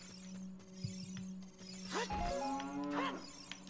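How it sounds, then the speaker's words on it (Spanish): A cow in The Legend of Zelda: Ocarina of Time, standing near a well in Goron City, gives two drawn-out moos close by over a low game hum. "Estaba esta vaca."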